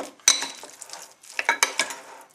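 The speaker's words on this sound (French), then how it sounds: "Hop, on va bien le mélanger." Minced pork and fragrant rice being stirred together in a bowl for a Cambodian num pang sandwich, a few scraping and clinking strokes of a utensil, close and quiet, irregular and alone.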